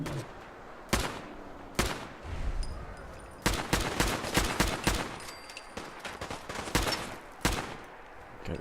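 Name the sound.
automatic weapons gunfire in the video game Fallout Wasteland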